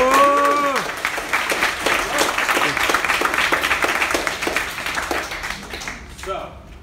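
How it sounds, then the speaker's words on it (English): Audience at a fan meetup breaking into applause: steady crowd clapping for several seconds, loud and close, with cheering and voices mixed in, then fading out toward the end. "let's have a big round of applause for everyone"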